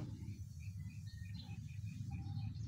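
Faint, high bird chirps and tweets come and go over a low, steady background rumble, somewhat distant.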